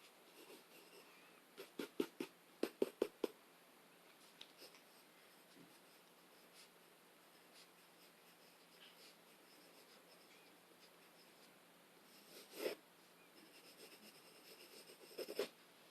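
A solid graphite pencil sketching on paper: faint, steady scratching with short clusters of sharper taps and strokes near the start and again toward the end, close and very quiet, with no voices.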